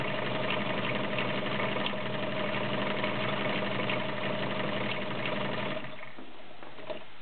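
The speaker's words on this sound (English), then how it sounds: "It runs smooth, has nicely balanced stitching." A vintage Kenmore 1303 heavy-duty sewing machine runs a zigzag stitch with a steady, even mechanical hum and a faint rhythmic ticking. It plays close and alone, then slows and quiets near the end.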